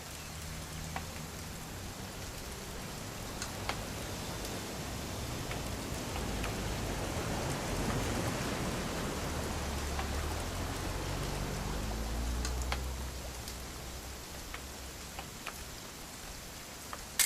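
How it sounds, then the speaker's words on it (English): Steady rain falls in the video game What Remains of Edith Finch, a continuous soft hiss with scattered light drip ticks and a low rumble underneath, holding at an even level throughout. "It's gonna rain the whole weekend, isn't it?"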